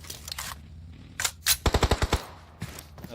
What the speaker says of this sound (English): they actually heard some gunshots behind him